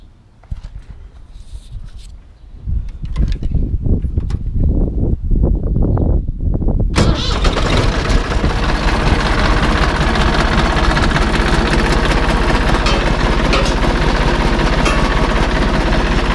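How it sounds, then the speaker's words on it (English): A heavy diesel tractor engine cranks and catches, then settles into a loud, steady rumbling idle that continues without a break. "It's time to start up the tractor"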